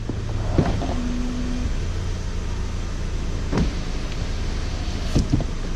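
Electric convertible top of a 2008 Audi TT moving, a steady motor whir with a few mechanical clunks and latching clicks, close and continuous without talk.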